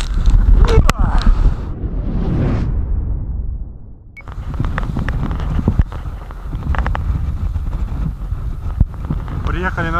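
Strong storm wind on the Amur River during a fishing trip, roaring broadband and buffeting the microphone steadily, with a brief lull midway and possible water and boat noise mixed in.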